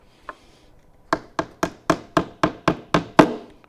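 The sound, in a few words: hammering nails around a Sport Lockrz locker unit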